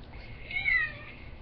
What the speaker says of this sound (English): You horrible little cat!